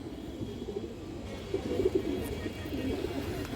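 A male pigeon with a black tail and white body coos softly in low repeated notes, close but faint beneath a steady room hum.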